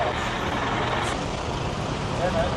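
A shuttle bus at the Mykonos port idles with a dense engine rumble and traffic wash, and a brief airy hiss of air brakes near the start.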